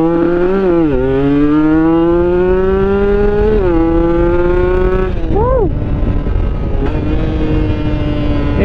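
Motorcycle engine fitted with a PWK 28 carburetor and 32 reamer revs hard, loud and close, its pitch climbing and dropping across several throttle blips with a brief sharp rev near the middle before settling into a steady high drone.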